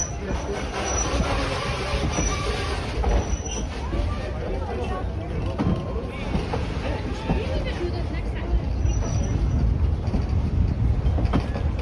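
A 4-4-0 steam locomotive, No.1 Edison, pulls a slow passenger train, giving a steady rumble and rolling wheel clatter throughout, with riders' chatter mixed in.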